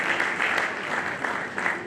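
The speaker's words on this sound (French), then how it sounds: "Est-ce que nous pouvons applaudir l'équipe de facilitateurs?" An indoor audience applauds a team of facilitators at a unity summit, a brief burst of steady, fairly close clapping with no voices.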